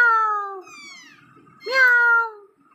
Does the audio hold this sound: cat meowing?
yes